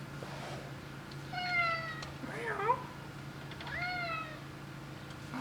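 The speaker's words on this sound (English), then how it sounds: "a yelping cat down here" A cat meowing and yelping indoors in a workshop: several drawn-out, wavering meows in a row, moderately close over a steady electrical hum.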